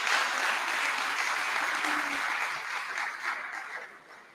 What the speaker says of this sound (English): Again, give yourselves a round of applause for being here today.